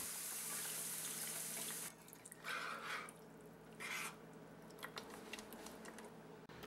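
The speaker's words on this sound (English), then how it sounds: "Then we add a quart of beef broth to the pan so we can start reducing the liquid." A quart of beef broth poured into a pan while making poutine gravy, a soft liquid splashing and trickling that comes and goes in short bursts over a quiet kitchen hiss.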